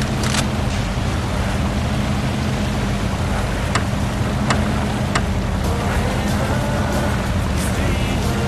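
A boat engine in Saints Row 2 drones steadily with a low motor hum and rushing water, a few sharp clicks and taps cutting through.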